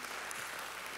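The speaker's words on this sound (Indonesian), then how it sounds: "Ayo yang atas itu kasih tepuk tangan itu saudara ya." Church congregation members clap together in a continuous, even wash of applause, soft and somewhat distant throughout.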